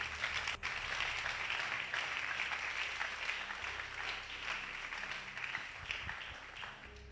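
A church congregation applauds in praise at a French-language worship service, a steady, moderately distant wash of clapping that holds evenly throughout.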